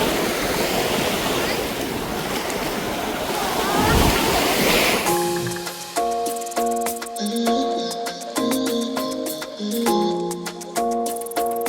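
Broad rushing roar of ocean surf and wind off Mallorca fills the first few seconds, then gives way to music with steady melodic tones.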